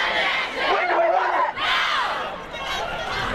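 Large climate strike rally crowd in Wellington: loud, continuous roar of many voices with rising chants and shouts, filling the whole stretch.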